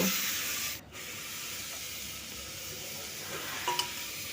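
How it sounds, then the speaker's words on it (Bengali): Onion frying in oil for a raw jackfruit curry makes a soft, steady sizzling hiss, fairly quiet, with a brief dip early on and a couple of light stirring taps near the end. "তেলের মধ্যে পেঁয়াজটাকে আমি একটু ভেজে নেব প্রথমে মানে হালকা লালচে বর্ণ আসবে সেই পর্যন্ত আমি ভেজে নেব"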